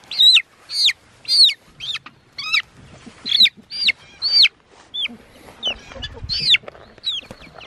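Chickens and chicks on a farm give a run of loud, close clucks and high peeping calls in quick bursts, about a dozen in a row with short gaps and no talking.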